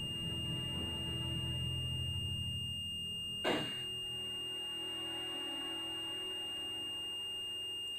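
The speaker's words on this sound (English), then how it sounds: "That beeping sound is pretty harsh." Harsh electronic alarm in the point-and-click game Broken Sword, a steady high-pitched continuous beeping tone held throughout, with a brief thump partway and no speech over it.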